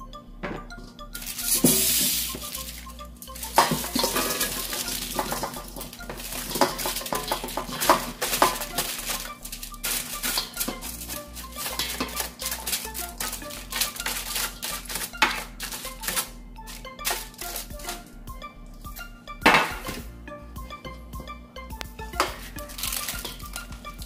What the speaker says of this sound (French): je les décolle tranquillement de la plaque. Et je vais les mettre dans le bol.